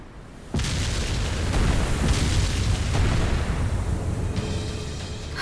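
Cannon fire from warships in Ys X Nordics: a sustained, heavy rumbling barrage of booms and blasts that starts suddenly and rolls on continuously at close range, with sharper cracks standing out in the roar.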